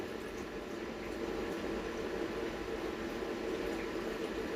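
Polao rice is washed in water, making a continuous close rushing and sloshing of water with a steady, even level throughout.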